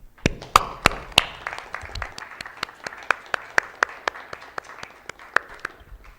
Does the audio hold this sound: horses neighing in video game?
no